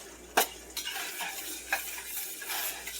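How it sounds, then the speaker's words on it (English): Sloppy joe sauce simmers and thickens in a wide, slope-sided pan, giving soft irregular bubbling pops and occasional light utensil clicks, close and fairly quiet. "I'm going to let this sit here and simmer for a little longer to thicken up even more."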